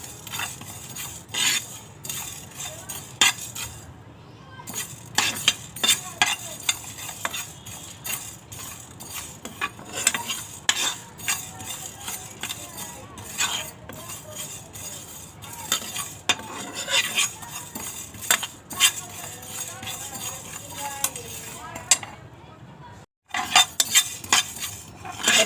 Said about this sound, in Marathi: थोडंसं स्वाद येईपर्यंत, बडीशेपचा वास येईपर्यंत भाजून घेते